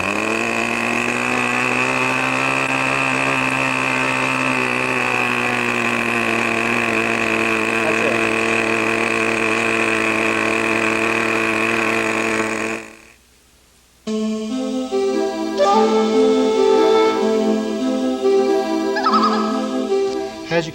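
A radio control model airplane engine runs at full throttle, a loud steady high-pitched buzzing whine that holds for about thirteen seconds, cuts to a brief silence, then gives way to a different buzzing tone with shifting pitch.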